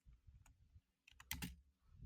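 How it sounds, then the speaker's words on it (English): Clicky keyboard typing in quick bursts, with a brief pause and a denser flurry of clacks near the end, close and fairly quiet. "You guys like that click clack sound?"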